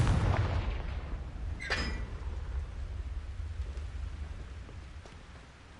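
A Confringo blasting curse from Harry Potter lands as a muffled, distant boom with a short crack, then a low rumble that lingers under steady background noise.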